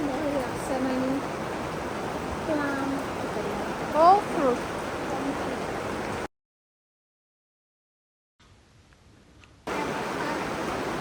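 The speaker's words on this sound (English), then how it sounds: "you'll hear the rain, because it was raining quite heavily" Steady heavy rain hisses in a dense, even wash over a garden centre, broken by a brief squeak of a bird, then a few seconds of near silence before the downpour resumes.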